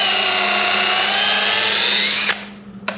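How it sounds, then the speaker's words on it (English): A power drill drives a bit through wood for a workbench build, a loud, steady high whine that runs about two seconds, stops, then briefly restarts at the end. "now I'm going to push the drill bit in there and then start it up"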